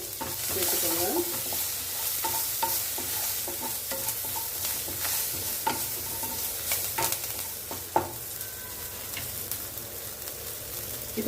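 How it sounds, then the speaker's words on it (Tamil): Steady crackling and sizzling of mustard seeds popping in hot oil, with scattered sharp pops and occasional stirring clatter, close and fairly loud. "கடுகு வெடிக்க ஆரம்பிச்சிருச்சு"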